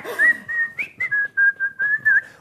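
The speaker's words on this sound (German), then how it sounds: "Und ich habe einfach 4 Minuten ins Mikrofon reinpfiffen." A man whistles a tune into a microphone, with loud, clear, close notes in a series of short, evenly spaced phrases and no other sound.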